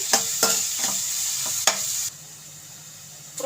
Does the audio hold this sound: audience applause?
no